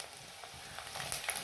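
Crushed ginger and garlic frying in a pan for a prawn curry give a steady close sizzle, with a couple of brief stirring scrapes.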